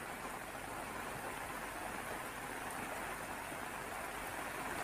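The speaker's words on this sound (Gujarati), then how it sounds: "સવારથી જ વરસાદ વરસી રહ્યો છે." Steady monsoon rain pours down over a village area in Patan, Gujarat, a continuous even hiss that stays constant and fairly soft throughout, with no voices.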